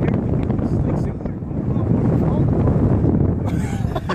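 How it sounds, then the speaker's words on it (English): Strong gusting wind buffets the microphone at an RC flying field in Lethbridge during a windy session with an EF MXS model plane, a steady roaring rumble throughout with voices talking underneath. "this is Lethbridge wind"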